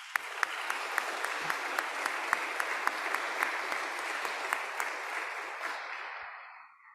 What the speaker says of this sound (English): Please also give them a round of applause.